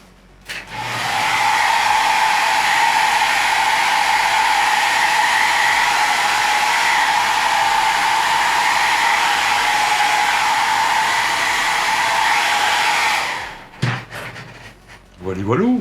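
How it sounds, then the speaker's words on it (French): A hair dryer blows steadily for about thirteen seconds to dry brush-painted paint on a P-47D Thunderbolt scale model, loud and close with a constant whooshing hum, then cuts off. "Alors un coup de sèche-cheveux."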